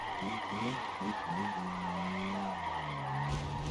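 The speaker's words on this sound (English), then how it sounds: "Can I just hold this on the handbrake for ages?" A car held on the handbrake skids on stock tires, a steady tire squeal with a wavering engine note running loud and continuous throughout.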